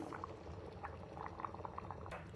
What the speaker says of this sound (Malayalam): ഇനി ഇത് മോരിലുള്ള വെള്ളം ഒന്ന് വറ്റുന്നത് വരെ ഒന്ന് തിളപ്പിച്ചെടുക്കാം കറി നന്നായിട്ട് തിളച്ചു